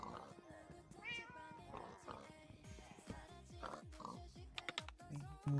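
Animals in a video game make a string of short squealing, oinking and meowing cries in quick succession, with game sounds and faint voice-like tones mixed in.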